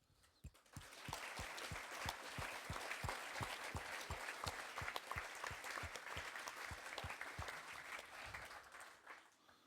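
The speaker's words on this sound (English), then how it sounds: "big thank you and a lot of applause, please, for our sponsors" An audience applauds at the closing of a SwiNOG network operators' conference, with dense, steady clapping that starts abruptly and runs for about nine seconds, sounding somewhat distant and faint.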